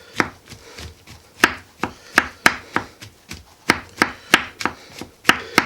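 A knife chops mushrooms on a cutting board for a beef and mushroom casserole, giving about twenty crisp, close knocks at an uneven but steady rhythm with no voices.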